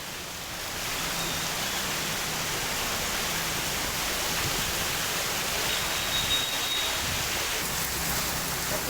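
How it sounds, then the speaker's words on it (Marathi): Rainwater pours off a hillside and rushes down a road like a waterfall during steady monsoon rain in Pune, a continuous, dense roar of water that stays even and fairly loud throughout, with no voices. "टेकडीवरून येणारं पाणी जे आहे ते खाली साचतंय। धबधब्याचं स्वरूप त्यामुळे या रस्त्याला आलेलं आहे।"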